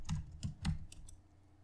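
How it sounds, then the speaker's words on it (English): Someone typing on a computer keyboard, a few close, distinct key taps in an uneven rhythm followed by quiet. "So if I were to just type some letters"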